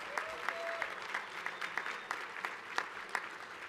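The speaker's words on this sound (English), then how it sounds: "Let's keep the round of applause going for all of our winners this year." Faint, scattered clapping from an audience honoring winners at a 2023 student broadcast awards ceremony, with sparse individual claps standing out over a low room hum.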